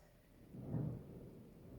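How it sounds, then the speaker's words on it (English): Thunder rolls in as one low, swelling rumble that peaks near the middle and slowly fades, faint and some distance away, with no voices over it. "ooh, thunder."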